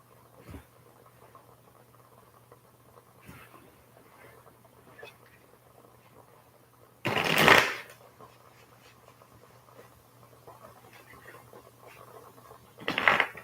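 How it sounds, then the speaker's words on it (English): A deck of cards is shuffled in a quick riffling burst, followed by quiet stretches and another short riffle near the end. "Okay, I'm going to shuffle one last time."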